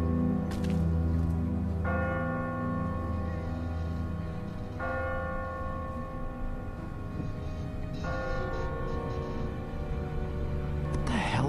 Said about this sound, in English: Ask not for whom the bell tolls.